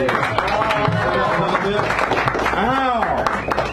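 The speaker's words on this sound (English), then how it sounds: "give him a round of applause" An audience at a poetry open mic in a San Francisco café claps in steady applause, with voices talking over the sustained clapping.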